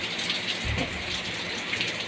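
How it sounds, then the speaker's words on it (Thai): Rain pours steadily in a dense, even hiss, with a brief low thump partway through and no voices. "ตอนนี้ก็เป็นเวลาฝนตกนะครับ"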